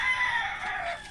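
A single drawn-out fowl call rings out clearly, a chicken's throaty vocalization lasting about a second against a quiet background.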